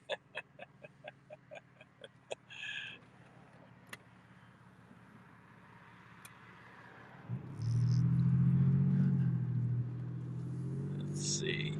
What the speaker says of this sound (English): Now you hear the traffic.